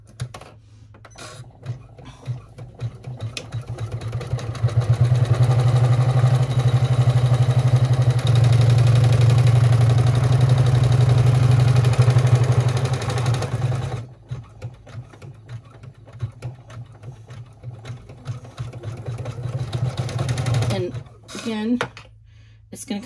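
Embroidery machine stitching a 3D bag in the hoop: a loud, steady rapid mechanical hum and clatter runs for several seconds, stops, then resumes in shorter bursts, with someone talking over and between the runs.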